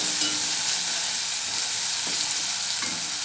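Byadgi chili powder and garam masala are stirred in a hot pan for stuffed bitter gourd, giving a dense, even, close sizzle with a couple of soft scraping strokes and no talking.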